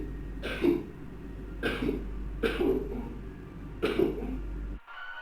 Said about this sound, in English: I'm hearing a cough, but a really weird cough.